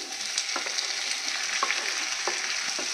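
Onions and tomatoes sizzle steadily in a hot pan, with occasional scraping and stirring sounds close by.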